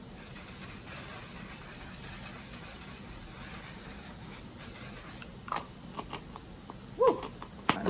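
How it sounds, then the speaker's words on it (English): A long steady hiss of One Size Until Dawn makeup setting spray misting close by for about five seconds, then it stops and a few soft handling clicks and taps follow. "Now I'm gonna finish off this look with my One Size Until Dawn setting spray."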